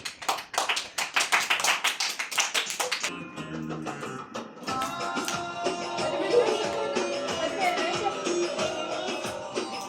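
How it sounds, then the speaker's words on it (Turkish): Lively hand clapping from a family at an early New Year celebration rings out for about three seconds, close and crisp, then stops as music takes over. "Bitti Alkış"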